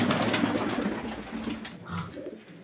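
Pigeons coo near a loft while being scattered wheat, soft repeated throaty calls over a busy rustling background that fades slightly toward the end, with no talk.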